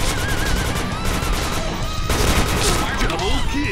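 Rapid gunfire crackles through a shooting video game, dense bursts of shots running almost continuously with a brief gap midway, loud and close.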